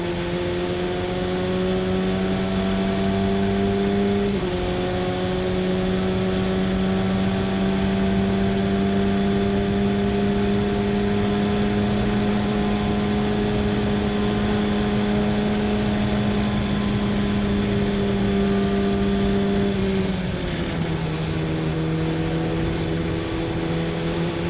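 A race car engine in a racing video game drones steadily at high revs through a lap, holding a loud constant whine with a couple of quick shifts in pitch, and no voices.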